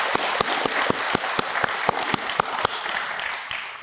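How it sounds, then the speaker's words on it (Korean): A seated audience at a Buddhist monk's dharma talk claps quickly and evenly, about a dozen sharp claps in a steady rhythm that fades slightly at the end. "일단 박수 한번 쳐주자고요."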